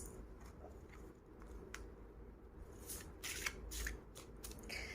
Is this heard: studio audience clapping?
no